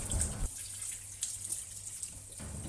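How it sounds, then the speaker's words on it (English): A pork knuckle rinsed under a running kitchen tap, a steady hiss of flowing water lasting about two seconds, close by and moderately loud, with no voices. "clean the pork knuckle under running water until the water runs clear."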